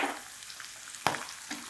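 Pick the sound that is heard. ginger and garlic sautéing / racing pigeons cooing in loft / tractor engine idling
ginger and garlic sautéing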